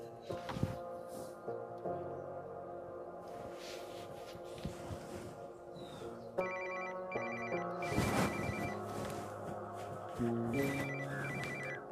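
A telephone ringing indoors in a home, repeated electronic ringtone bursts with harmonic tones cycling over twelve seconds, fairly clear with no talking.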